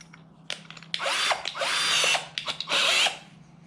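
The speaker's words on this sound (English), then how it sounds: "So, 3/8 drill bit, no pilot hole." A SKIL 20V cordless drill with a 3/8-inch bit whines in three short high-pitched bursts, close and loud, each bite into material without a pilot hole rising and cutting off with pauses between.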